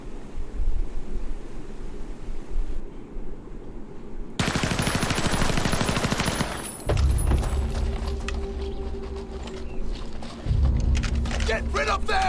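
Gunfire in a Resident Evil Zero video game cutscene, a burst of rapid automatic shots and booms amid loud rumbling, with shouted voices over it.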